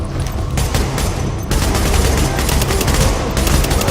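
Dense, continuous gunfire crackles throughout, rapid bursts layered over one another in a loud, chaotic firefight in the video game The Division.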